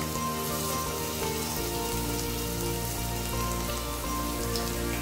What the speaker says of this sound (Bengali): আদা রসুন ভেজে নেওয়ার পর দিয়ে দিচ্ছি 2 মিডিয়াম সাইজের পেঁয়াজ কুচি।